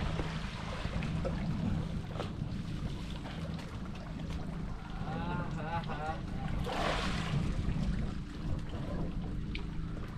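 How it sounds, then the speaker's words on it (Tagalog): A boat engine drones steadily beneath wind and splashing water, with people talking nearby throughout. "Ang laki ng tunog ng makina."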